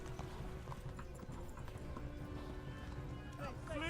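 A horse gallops in the Kingdom Come: Deliverance video game, its hoofbeats clip-clopping in a steady driving rhythm under game music and ambience, with a brief whinny-like cry near the end.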